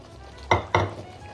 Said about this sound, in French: J'ajoute finalement tous les légumes.